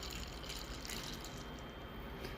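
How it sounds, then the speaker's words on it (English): Water runs steadily into a container of soybeans set to soak, a soft continuous rushing and splashing that stays faint and even throughout. "Fill it with water."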